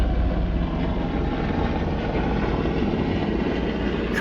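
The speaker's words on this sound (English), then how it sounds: "Coast Guard helicopter." A Coast Guard helicopter flying overhead, a steady, continuous rotor and engine rumble heard at an even loudness throughout, with no talk.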